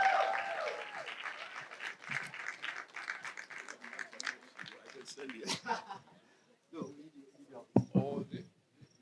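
Keynote audience at a festival on reparations applauding, a dense patter of claps that swells and then thins out, mixed with talking and some scattered laughter.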